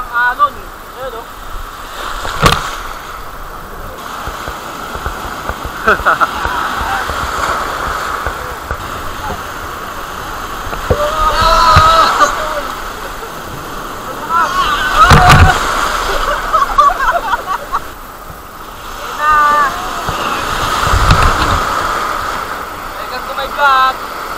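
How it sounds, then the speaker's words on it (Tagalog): Sea waves break at Laki Beach in Mariveles, Bataan, on a rainy-season day, surging several times over the clip with a steady wash of surf and wind beneath people talking nearby. "Alon, ayan o."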